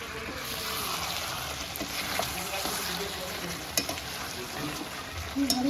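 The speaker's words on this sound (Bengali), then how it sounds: "এখন আমাদের দুপুরের জন্য মটন রান্না হচ্ছে" Mutton cooking in a pan for lunch, with a low steady sizzle and occasional scraping as it is stirred, faint and continuous throughout.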